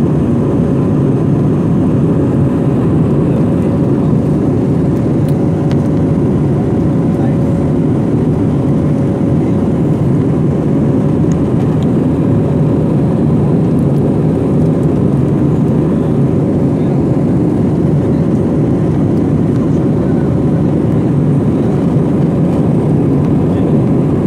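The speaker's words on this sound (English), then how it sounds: "Plane has now taken a good height, so your visibility would be going down now." Steady, loud cabin roar of an airliner climbing after a night take-off from Jaipur Airport, a constant low engine drone with a faint tonal hum, unbroken and with no speech.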